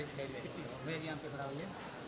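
Heavy rain pours outside a temple in Uttarakhand, a steady hiss under someone speaking close by.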